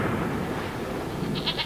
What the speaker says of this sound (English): That's what a goat sounds like being shot out of a submarine.